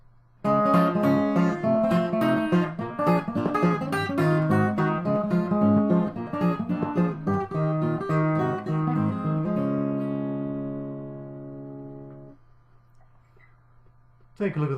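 Fingerstyle blues guitar in a syncopated ragtime piece with thumb rolls, played close and clear with busy picked notes, ending on a sustained chord that rings out and fades.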